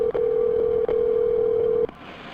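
A telephone tone sounds while a call is placed to the police during an emergency call, one steady tone held for nearly two seconds with two brief dropouts, then cutting off into quiet line hiss.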